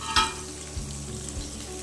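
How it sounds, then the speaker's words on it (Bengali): Fish sizzles in hot oil in a pan on a home stove, a quiet, steady frying hiss with a few soft clinks and scrapes. "আর এদিকে মাছ ভাজা হচ্ছে।"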